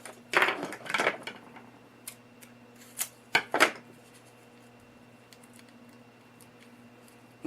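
Scissors snip through a small piece of ribbon from a handmade gift bow, giving a few soft, close cuts early on and two more around the midpoint, followed by quiet.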